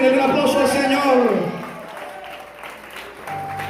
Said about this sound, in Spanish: Cuando dicen amén, el aplauso al Señor